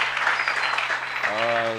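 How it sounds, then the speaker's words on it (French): A church congregation claps together in steady applause, dense and continuous, with a voice joining near the end. "Applaudissons le Seigneur Jésus-Christ"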